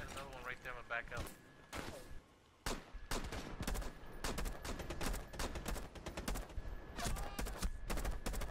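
Rapid bursts of gunfire from a first-person shooter game, sharp shots and short volleys repeating through the whole stretch, loud and close, with a player's voice talking over parts of it.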